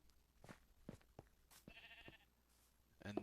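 Sheep bleat in Minecraft Bedrock Edition, several short, faint calls scattered across a few seconds alongside quiet game clicks and soft steps.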